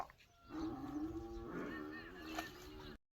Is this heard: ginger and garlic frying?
no